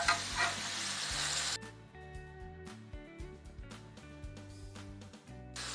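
Chicken browns in a frying pan and is stirred. A loud hiss opens and then drops away, leaving softer sizzling with scrapes and clinks while music plays underneath.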